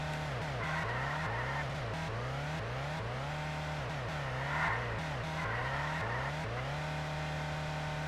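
Race car engines in the top-down racing game Ultimate Racing 2D, whining and revving up and down through gear shifts as several cars lap a remodeled Suzuka, with tire squeal through corners, steady and moderately loud.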